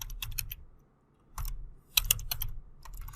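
Typing Python code on a computer keyboard gives close clusters of quick key clicks in short bursts separated by brief pauses, with no talking.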